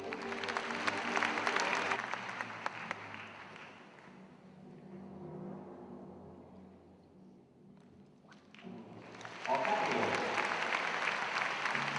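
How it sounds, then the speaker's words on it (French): A crowd at a horse show breaks into loud, sustained applause that fades to a murmur and then surges back, dense and continuous, with no voices above it. "à écouter les applaudissements nourris du public"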